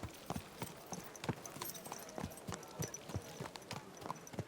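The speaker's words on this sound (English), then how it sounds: "Easy, good horse." Horse hooves clip-clopping at a steady walking rhythm in Kingdom Come: Deliverance II, a series of distinct thuds fairly close and quiet, with no talking over them.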